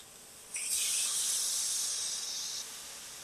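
An adobo-rubbed steak sears in a small grill pan with a sudden, steady hiss of sizzling that holds for about two seconds, then cuts off, with no talking.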